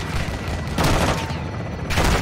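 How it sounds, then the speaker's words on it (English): Belt-fed machine gun fire in the Modern Warfare II campaign, heard as sustained rattling bursts with two louder, sharper volleys and a dense combat din in between. "Taking belt-fed fire from beneath the tower."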